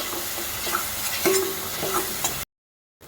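A spoon stirs a spice mix of chili and kitchen king masala in a pan for stuffed ridge gourd, with close scraping and a light sizzle before the sound cuts out near the end.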